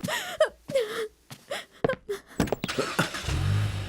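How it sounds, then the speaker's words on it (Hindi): A car engine rumbles low and steady near the end, following gasps, whimpers and tense voices speaking close by. "गाड़ी चलाओ, चलाओ।"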